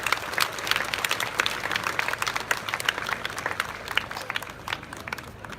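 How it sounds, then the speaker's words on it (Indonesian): An audience applauds the Minister of Tourism at the opening of a Bali arts festival at an outdoor art center, a steady patter of many hands clapping at moderate distance, sustained without pause. "Tepuk tangan untuk Pak Menteri Pariwisata."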